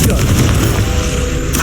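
Confringo blasting spell explosion in the video game Hogwarts Legacy, a loud, deep, rumbling boom filling a short moment, heavy and close.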